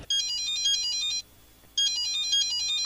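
A mobile phone ringtone plays loudly and close by, a bright electronic melody in two bursts separated by a short pause, with no voices over it.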